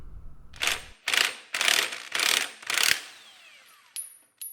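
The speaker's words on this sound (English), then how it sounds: "Use your removal tool, extension, and your impact wrench to get the nut off." An impact wrench hammers at the front wheel nut of a Ducati XDiavel motorcycle in five loud, close, rattling bursts of even rhythm, followed by a faint whine and light clicks.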